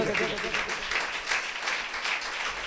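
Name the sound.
congregation clapping loudly in church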